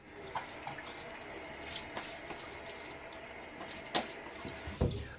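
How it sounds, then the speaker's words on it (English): Water splashes onto a face from cupped hands at a sink before a wet shave, a few quick irregular slaps and drips over a steady running-tap background. "I will splash my face with some water to start introducing moisture to my hairs"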